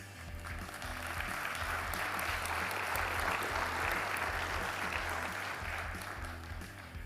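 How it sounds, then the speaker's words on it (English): An arena audience at the Hyundai Archery World Cup Final in Tlaxcala applauds the women's elite eight archers with sustained, steady clapping that swells and tapers over several seconds, heard at a distance under faint amplified sound. "please give a huge round of applause for your campaign Women's Elite 8"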